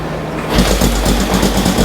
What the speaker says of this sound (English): Let me go ahead and give it another kick, choke off. See if it starts back up